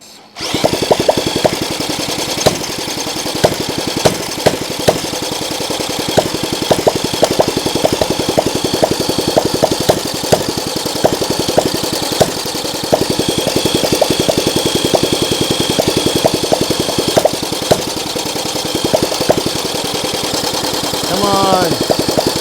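A small engine that had been seized, with its throttle cable cut, runs after a pull start, a loud, rough, rapid chugging rattle that holds steady close by for the whole stretch, with a brief drop near the end.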